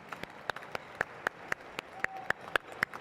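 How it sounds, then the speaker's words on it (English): A sparse audience claps at a ceremony for the staff and volunteers of the National Archives, a dozen or so distinct, fairly faint hand claps spaced out in a thin, irregular rhythm. "I'd like to begin with a round of applause for the people, the staff, the volunteers at the National Archives"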